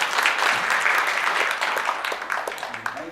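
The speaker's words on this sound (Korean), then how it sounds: "우리 박수로 한번." A church congregation at a Monday united prayer meeting for Israel applauds together, a dense, steady wash of clapping that fills the whole stretch and eases slightly toward the end.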